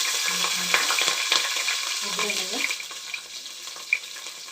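Green chillies fry in a pan of hot oil while cooking a fenugreek-leaf rice bath, giving a continuous close sizzle broken by a few stirring scrapes and light clinks.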